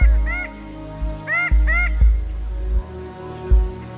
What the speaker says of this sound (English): Red bird of paradise.